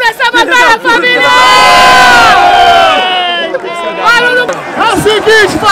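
A crowd at a rap battle cheers and shouts loudly and without a break. A swelling roar of many voices rises and falls right up close, with shouts breaking through on top.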